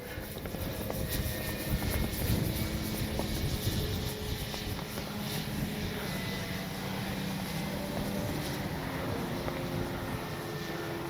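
On a very windy day, a Hangar 9 20cc Valiant radio-controlled plane flies with a steady, moderately loud electric motor and propeller whine, mixed with gusty wind noise.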